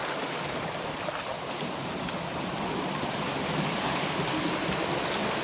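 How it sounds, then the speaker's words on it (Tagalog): Water crashes and rushes strongly with a steady, broad roaring wash, loud and continuous without distinct breaks, and no voices are heard. "Grabe ang hampas ng tubig."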